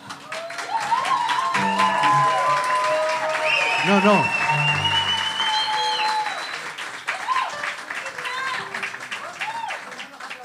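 An audience applauds steadily at a live tango and milonga show. Someone speaks over the clapping, and some tonal sounds rise and fall through it.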